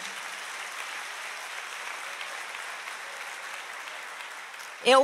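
Church congregation applauding the Lord during a Portuguese-language sermon, a steady wash of many hands clapping at moderate loudness throughout, ending with a brief louder burst.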